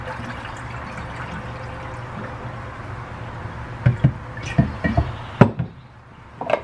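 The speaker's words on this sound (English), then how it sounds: "I'm going to take it into the sink and rinse it out. Just let water run on it for several minutes." Water runs steadily while developed black-and-white film is rinsed, then louder splashes and sloshing bursts come near the end, close by.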